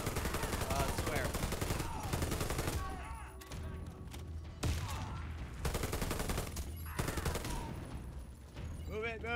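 Sustained automatic gunfire in the first-person shooter Warface, with dense rattling bursts broken by brief lulls, loud and close, while players talk over the action.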